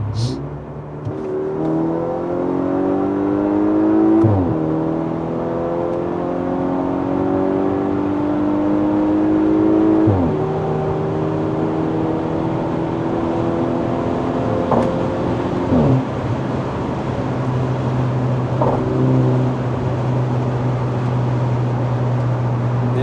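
A tuned 315 hp Audi A5 45 TFSI Quattro engine revving up through the gears, its pitch climbing then dropping at each shift, loud and sustained with no talk over it.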